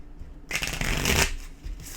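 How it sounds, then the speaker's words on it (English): Tarot cards being shuffled by hand, a quick burst of riffling and flapping card noise lasting about a second, close and fairly loud, followed by a brief softer shuffle. "As I finish shuffling"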